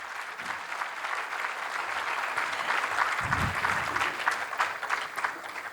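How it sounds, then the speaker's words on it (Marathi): Audience applause at a talk event as dignitaries take their seats, a steady dense clapping that holds loud and continuous throughout, with a brief low thump partway through. "जोरदार टाळ्या त्यांच्यासाठी."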